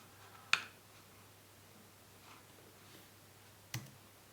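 Two sharp computer mouse clicks, the first near the start and the second about three seconds later, made while selecting faces on a 3D model during texture work, each isolated against a quiet background.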